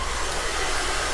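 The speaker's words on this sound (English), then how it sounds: "I'm going to go ahead and do that with the blow dryer on" A handheld blow dryer runs steadily during a hair blow-dry, giving a close, constant whoosh of air with no pauses and no voices.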